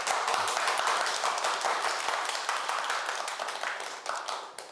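A lecture-hall audience gives steady, dense applause to welcome a professor of urban planning for a university talk on local autonomy, the clapping starting full and gradually thinning out, with no speech over it.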